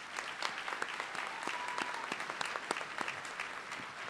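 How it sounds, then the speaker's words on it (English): Applause for a retiring staff member at a Jefferson College commencement ceremony, a steady crowd clapping with distinct sharp claps standing out, moderately distant and even throughout. "Let's give him a round of applause."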